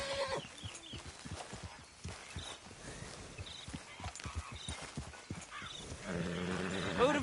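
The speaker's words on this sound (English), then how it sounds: "Grab your horse and let's go." Horse hooves clip-clop in a steady, rhythmic trot in a video game, the beats close and clear over a continuous layer of background game ambience.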